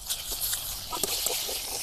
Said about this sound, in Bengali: এবার ডিমগুলো ভেজে নেব।